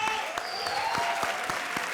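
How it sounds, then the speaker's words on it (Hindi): A comedy show studio audience gives loud, continuous applause, a thick, steady clapping roar with no break across the short stretch. "एक बार इनके लिए जोरदार तालियां।"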